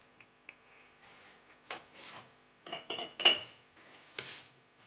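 A spoon scrapes and clinks in a mixing bowl as sugar and baking powder are stirred into flour and melted margarine for a grated cheese pie, quiet uneven knocks and rubs, close up with no talking.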